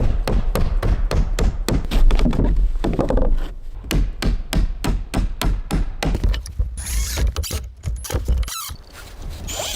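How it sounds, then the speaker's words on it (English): Clamps are hammered tightly into log cabin timbers during rafter work in a forest, with a fast run of sharp metallic knocks close by, slowing to scattered blows and scraping later on. "The clamps are being hammered in tightly so that the wood does not move."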